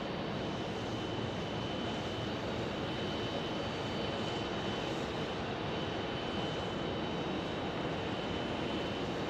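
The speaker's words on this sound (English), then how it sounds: "Delta from Detroit." Delta airliner from Detroit at Phoenix Sky Harbor Airport, a faint, steady broadband jet engine rumble holding evenly throughout without voices.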